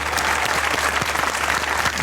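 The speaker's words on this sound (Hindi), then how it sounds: "आपकी भरपूर तालियों में जनाब अहमद सईद।" Audience applause welcoming the poet Ahmed Saeed at a comic mushaira, a dense, steady wash of clapping that stays loud and even throughout.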